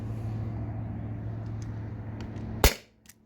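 A modified T4E HDP50 Gen 2 HPA pistol fires a single 2.7 gram aluminum ball through a chronograph, one sharp loud crack following a steady hiss from the air line, then near silence.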